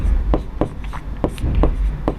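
Pen strokes on paper while a Class 10 maths solution on trigonometry is written out, with several short scratchy bursts at an irregular rhythm, close and fairly loud.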